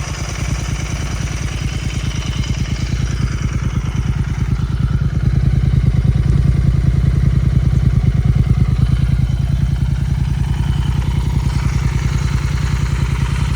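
A modified Royal Enfield Continental GT 650 twin idles nearby, a loud, steady low thumping exhaust beat that holds an even rhythm throughout with no revving.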